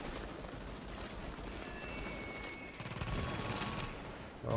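Automated turret fire in the shooter game Tom Clancy's The Division crackles as a dense, sustained burst of rapid shots at moderate volume, with a sharper flurry near the end.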